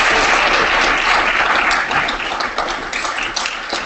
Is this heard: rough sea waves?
no